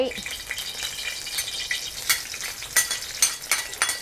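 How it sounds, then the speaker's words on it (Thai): Pounded herb paste of coriander root and black pepper sizzling and being stir-fried in hot oil in a wok for squid pad kee mao, a steady close crackle broken by sharp spatula scrapes and stirring clatters. "ใส่ลงไปเลยค่ะ ผัดเครื่องให้หอมฉุยเลยจ้า"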